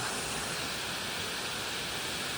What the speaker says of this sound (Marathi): आता आलो धबधब्याजवळ बघा वेशवीचा धबधबा